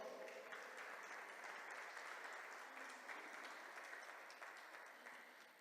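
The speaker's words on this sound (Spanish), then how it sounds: "Le damos ese fuerte aplauso." Church congregation giving a strong round of applause, a thick wash of clapping that stays full for several seconds and then gradually thins and fades, with no clear voices.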